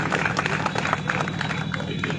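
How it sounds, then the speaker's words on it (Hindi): A crowd at a political rally in Nawalgarh claps briefly, a dense patter of many hands at moderate distance. "ठोको ताली।"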